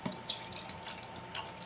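Yukon Gold beer being poured into a wine glass gives soft, faint splashes and drips of liquid, with a few brighter droplet sounds over a quiet background.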